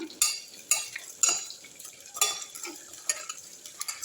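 Tomato, coriander and curry leaf paste mixed by hand in a bowl for a village-style brinjal fish curry, wet squelching strokes in a steady repeating rhythm, close and fairly quiet.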